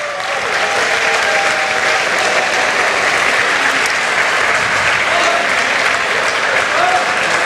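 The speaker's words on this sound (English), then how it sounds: "Let's give Michigan International a nice round of applause." A large crowd at the Formula SAE Michigan awards ceremony gives a sustained round of applause, dense even clapping filling the hall without a break.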